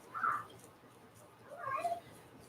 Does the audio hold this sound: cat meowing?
yes